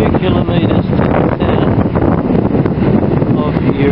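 Strong wind on a coastal headland on the New South Wales north coast batters the microphone, a loud continuous rumble and buffeting roar with no letup.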